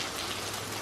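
Hail falls outdoors as a steady, dense patter of ice hitting surfaces, a constant hiss of many small impacts with no voices.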